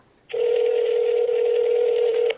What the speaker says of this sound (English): Well, it is ringing, so we're going to wait for an answer